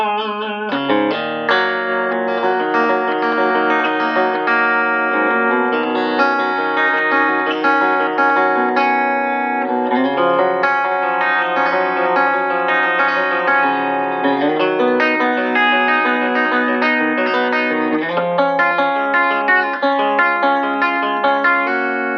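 A Sawtooth hybrid Telecaster electric guitar plays with a clean tone and no delay, strummed chords and picked notes ringing steadily and fairly loud for over twenty seconds, with no talking.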